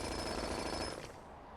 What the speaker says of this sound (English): let's also see what happens when I dig with the jackhammer